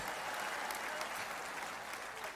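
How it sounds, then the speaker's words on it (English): Steady crowd applause at a Knicks NBA championship parade celebration, a dense continuous clapping that stays loud and even throughout without a break. "let's give them a round of applause"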